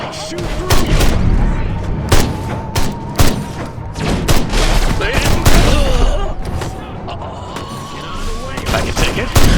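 In the remake of the game Destroy All Humans, gunfire rings out in loud bursts with explosive booms and thuds, mixed with shouted voices and other game sounds.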